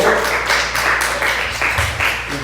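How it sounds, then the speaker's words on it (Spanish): Audience applause for a visiting brother and his wife at a gathering, broadband clapping filling the space steadily from start to finish, with a low hum beneath. "Regalémosles un aplauso, por favor."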